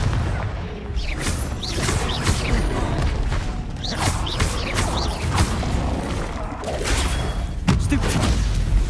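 Spell blasts and explosions in the video game Hogwarts Legacy, with several sharp bursts and booming impacts scattered over a busy battle soundscape, loud and close.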